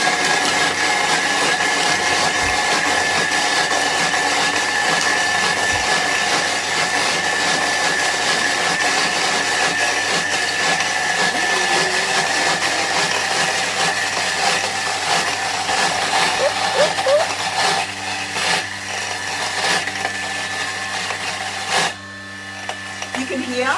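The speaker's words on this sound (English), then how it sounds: "what we're going to do is blend that down." Countertop blender running at speed 8 on a vegan recipe, a loud sustained motor whine and churning that holds steady for a long stretch before winding down near the end.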